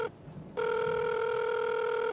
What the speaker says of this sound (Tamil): அப்போ இன்ஸ்பெக்டர் கானோட மொபைலுக்கு ஒரு ஃபோன் வருது.